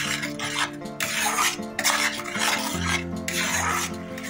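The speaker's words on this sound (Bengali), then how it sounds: "ভালো করে মিশিয়ে নিচ্ছি।" A spoon works a cashew and sour yogurt paste into rohu fish curry in a pan, giving a steady scraping, rasping stir with small metallic knocks against the pot, close up and alone, with no talk.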